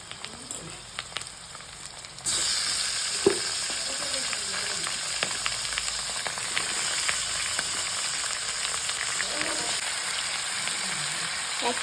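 Chicken meat goes into a hot pan of reddish-browned fried onions and bursts into a loud, dense, continuous sizzle that holds steady after a quiet start, with occasional stirring clicks.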